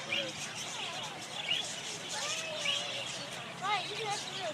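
Small birds being hand-fed chirp and tweet in quick rising and falling calls, several bursts close by, with voices talking in the background.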